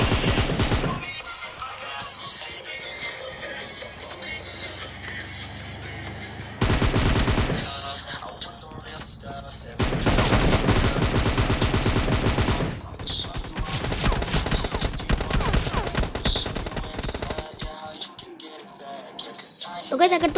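Gunfire in the mobile shooter PUBG Mobile Lite, with loud, dense bursts of automatic spray and rapid shots filling most of the stretch, broken by a few short lulls.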